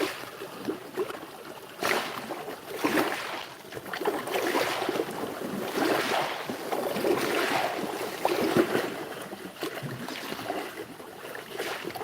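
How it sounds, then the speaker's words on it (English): Small water waves lapping near a shaded hummingbird garden on a hot day: a continuous soft washing and splashing, with gentle surges that rise and fall over several seconds, close and steady, with some wind. "Nice little waves."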